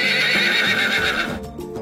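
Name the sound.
horse neighing, a wild mare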